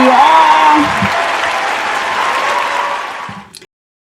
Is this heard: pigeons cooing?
no